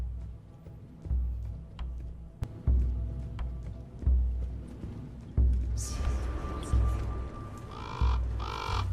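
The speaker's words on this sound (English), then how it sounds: "We saw for a moment there the white raven flying off into the distance." A white raven caws a few times in the distance in a video game, over rhythmic footsteps and a low ambient background.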